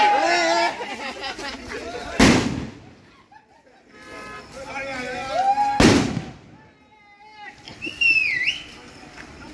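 Firecrackers go off in a street celebration after India's T20 World Cup win, with two sharp loud bangs standing out over crowd voices and cheering, plus a whistling rocket near the end.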